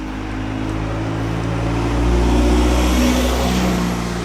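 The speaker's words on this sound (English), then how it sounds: "noisy bus" A noisy bus rumbles past in an English village, a steady low engine drone that swells louder around the middle as it goes by, heard alone with no talking.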